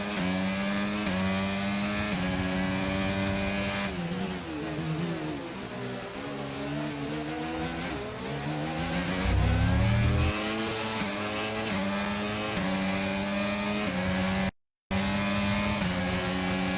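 Formula 1 race car engine in the F1 23 video game, a loud continuous high-revving whine that rises and falls with gear shifts and acceleration, heard close up with a brief dropout near the end.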